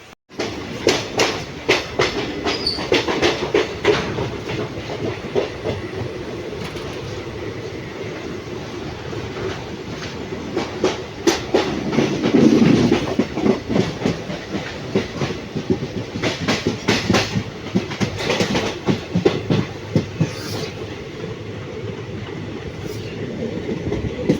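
Kaviguru Express passenger train running between Rampurhat and Azimganj, steady rumble of wagons with repeated clickety-clack of wheels over rail joints, heard from on board and continuing throughout, with no talking.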